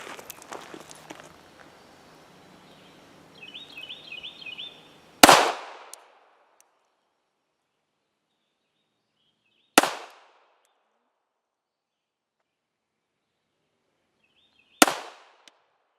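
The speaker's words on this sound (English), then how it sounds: "Glock 42 and 380, Glock 43 and 9mm, Smith & Wesson Shield and 9mm." Three sharp gunshots from compact pistols, a Glock 42 in .380 and a Glock 43 and Smith & Wesson Shield in 9mm, fired outdoors several seconds apart, each loud crack decaying quickly into silence after some quiet handling noise.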